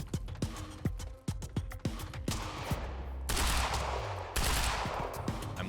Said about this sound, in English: I'm literally shooting him through the wall.